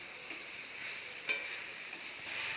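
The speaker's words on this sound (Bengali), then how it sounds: "এবার সোয়াবিনগুলো কষানোর মধ্যে দিয়ে দিলাম" Boiled, squeezed soybean chunks fry in a spiced masala base, giving a steady, fairly quiet sizzle with light stirring scrapes, one sharper clatter partway through and a brief swell of hiss near the end.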